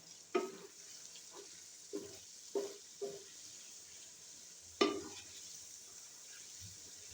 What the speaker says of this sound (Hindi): अच्छे से मिक्स कर लेना है हमने